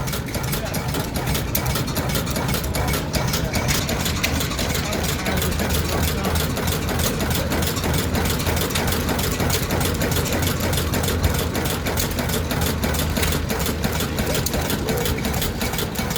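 A 1923 five-horsepower stationary engine burning petrol and tractor vaporizing oil idles at a Victorian-era show, a continuous, even, chugging drone that holds steady throughout, close by.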